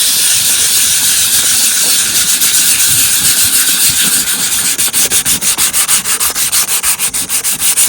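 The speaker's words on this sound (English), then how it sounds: "starting off P180, I'm just going to lightly sand over the lens" A headlight lens being wet sanded by hand with P180 sandpaper: loud, continuous gritty rubbing hiss, turning into rhythmic back-and-forth strokes in the second half, with no talking.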